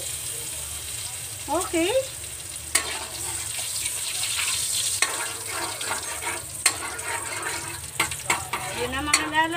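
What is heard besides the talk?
margarine frying in a pan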